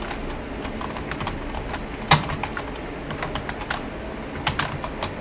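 Keys on a computer keyboard clack in quick irregular bursts, moderately close, with a few sharper strokes standing out and no talk.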